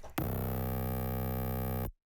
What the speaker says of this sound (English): And then I use the EQ to turn down some of the low frequencies.